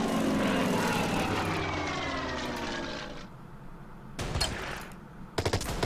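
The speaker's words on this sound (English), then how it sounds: "And also with the plane." In a war video game, a propeller recon plane roars loudly overhead, its engine pitch sliding downward as it passes and fades, followed by short bursts of gunfire.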